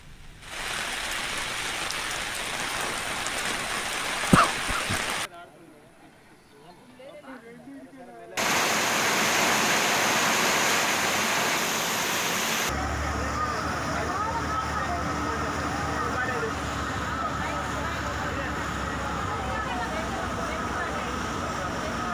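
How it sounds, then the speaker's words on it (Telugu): Heavy rain pours down in Adilabad district, Telangana, a dense continuous hiss of drops striking the ground, heard in separate stretches with a reporter's voice speaking over them. "ఆదిలాబాద్ జిల్లాలో భారీ వర్షం కురిసింది."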